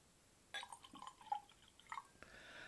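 Water drips and trickles into a glass of Mortlach 24-year-old single malt whisky at 56.5% strength, making soft, scattered little splashes that sound faint and close.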